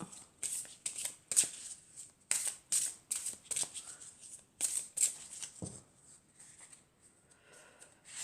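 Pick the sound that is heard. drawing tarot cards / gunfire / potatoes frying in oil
drawing tarot cards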